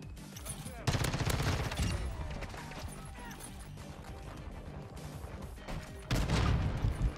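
Gunfire in Call of Duty Modern Warfare 2 fills the mix in fast bursts of automatic shots, with a couple of heavier, louder volleys near the start and end over a busy game background.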